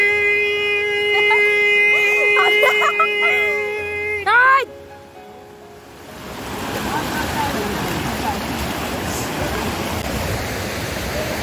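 Strong floodwater flowing in a village, a loud continuous roaring rush filling the second half after tonal electronic sounds and a brief silence.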